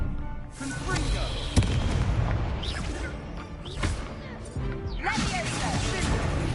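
Confringo fire spell blasts in the Hogwarts Legacy game, a dense roar of booming explosions and crackling bursts with sharp hits near 1.5 and 5 seconds, under a busy battle mix with voices.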